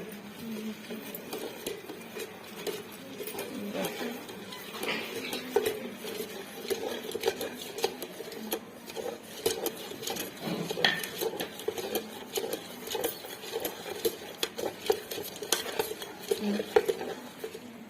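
Dry amla and lemongrass powder is stirred in a kettle, a steady run of soft scraping and clinking strokes that go on without pause, close and moderately loud.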